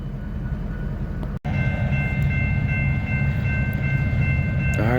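A westbound freight train passing at Pacific Junction, Iowa, a continuous loud rumble with rolling wheel noise and a steady ringing tone, close by and filling the whole stretch.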